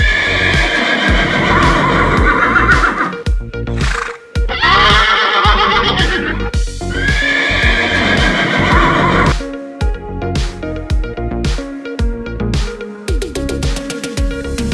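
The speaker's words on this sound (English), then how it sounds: "And the sound of the horse is" Several loud horse neighs and whinnies close by, shrill and drawn-out, with snorts and clopping hooves in between and no talking.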